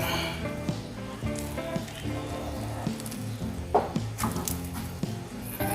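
Sticky rice (malagkit) hits a hot pan with a steady, close sizzle and frying crackle, plus occasional scraping stir sounds and a brief clatter near the middle.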